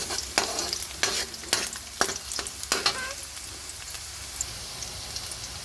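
Ginger and onion sautéing in oil in a pan, a steady sizzle with several sharp scraping stirs in the first half, then quieter frying alone.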